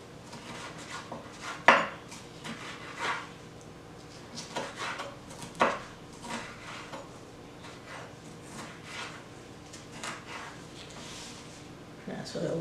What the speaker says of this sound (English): now we're going to move on to cutting up my vegetables. So I'm doing it in strips.